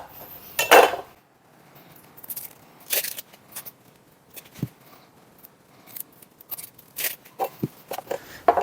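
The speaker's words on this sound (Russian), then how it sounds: "Лук можно нарезать произвольно." A knife slices onion on a board nearby for a mushroom soup, with crisp irregular slicing clicks and taps spaced out over several seconds.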